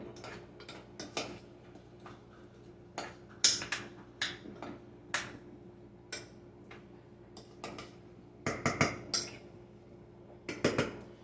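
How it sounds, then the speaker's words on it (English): A utensil stirs seasoning into chicken and potatoes in a pan, giving scattered light metallic clinks and scrapes at an uneven pace, some in quick clusters, over a quiet kitchen background. "stir, stir, stir. Incorporate this seasoning, y'all."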